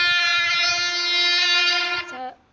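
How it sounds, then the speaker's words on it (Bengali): An express train's horn in an Indian railway crossing simulator video game blares one long, loud, steady tone for about two seconds, then drops in pitch briefly before cutting off. "দারুণ হংকিং করতে করতে চলে এসেছে আমাদের ট্রেন"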